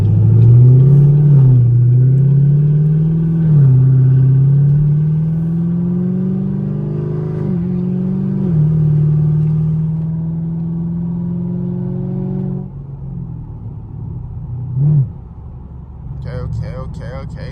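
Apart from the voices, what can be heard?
Camaro SS 6.2L V8 with catless straight pipe exhaust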